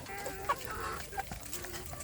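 Free-range village chickens, including young roosters, clucking in a coop, with a few short soft clucks and chirps from nearby over a low background murmur.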